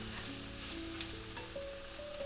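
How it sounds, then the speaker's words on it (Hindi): Coriander stems fry in a simmering Indian chicken curry gravy, giving a continuous close sizzle with faint stirring beneath gentle background music. "इसी स्टेज में हम जो स्टेम पार्ट है धनिया का, उसको ऐड करके उसको भी साथ में फ्राई होने देंगे।"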